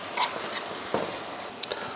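White wine hitting softened mushrooms in a hot frying pan gives a steady, close sizzle that runs throughout, with a few light stirring taps on top.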